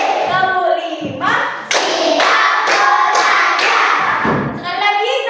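In a Hindu religion and character education lesson, a standing class claps hands through the last step of a counting ice-breaker: a burst of loud, quick, overlapping claps up close, with chanting voices before and after.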